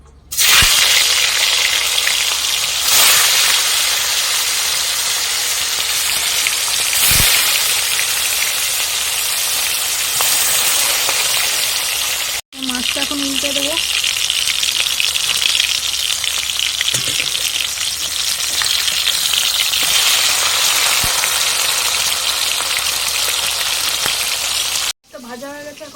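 A large fish fries in oil in a wok on an outdoor clay stove in hot weather, a loud, dense, continuous sizzle like heavy rain, with two brief cuts along the way.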